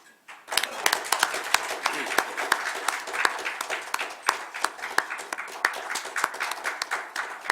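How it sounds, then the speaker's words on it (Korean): A lecture audience welcomes the speaker at a health forum with loud, sustained applause, many sharp individual claps rising quickly from near silence and holding steady to the end. "힘찬 박수로서 연사님을 모시겠습니다"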